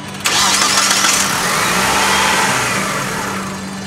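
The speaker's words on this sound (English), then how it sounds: "See if the engine starts." A 2002 Mitsubishi Lancer engine cranks and catches, then settles into a loud, steady run that slowly eases off, with no voices over it.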